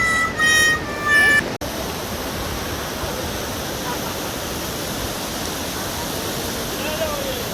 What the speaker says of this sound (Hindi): ऊपर पहाड़ों से गिरता झरना, और झरनों के बीच से निकलती हुई गाड़ियाँ अभी निकलेंगी